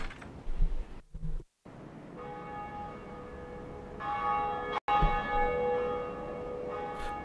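A great bell tolls in Dark Souls, its sustained metallic hum swelling after brief rumbles and dropouts, with a second strike around the midpoint ringing out bright and resonant before slowly decaying.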